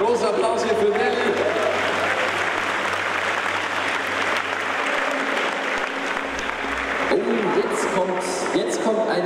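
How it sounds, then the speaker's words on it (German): An audience claps and cheers loudly for a costume contestant dressed as a troll shaman, sustained applause with crowd noise and an announcer talking over it. "Großer Applaus hier für Nelly."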